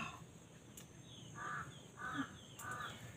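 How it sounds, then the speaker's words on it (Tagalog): A crow caws three times in a row at moderate distance, short harsh calls spaced evenly over quiet outdoor background. "Ang alaga ninyong uwak."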